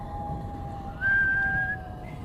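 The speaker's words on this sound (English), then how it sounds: "As Ichabod approached this fearful tree, he began to whistle." A single man whistles one steady, sustained note near a tree in a folk-mystery audio drama, clear and alone against a quiet, dark ambience with low rumble underneath.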